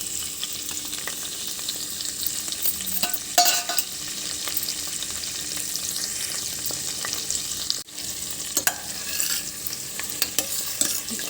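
Ginger and green chilli pieces frying in a pan, a continuous hissing sizzle broken by occasional clacks and scrapes of a stirring spoon, fairly faint and steady, no talk.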